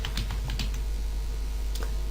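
Typing on a computer keyboard, with scattered light key clicks, a few quick taps early and a lone press later, over a steady low electrical hum.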